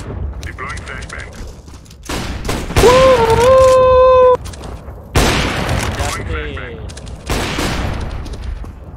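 A flashbang goes off amid heavy bursts of video game gunfire, with loud, booming volleys and a sustained ringing whine in the middle, broken by short gaps.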